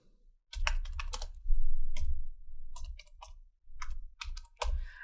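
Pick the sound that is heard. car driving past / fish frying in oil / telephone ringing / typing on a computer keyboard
typing on a computer keyboard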